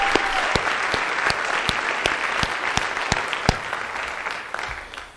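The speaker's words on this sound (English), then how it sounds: "So let's give all these teachers a big round of applause for all their time and effort helping the students." A crowd gives teachers a big round of applause at a school event, steady dense clapping throughout with a few sharp, close claps standing out before it gradually thins.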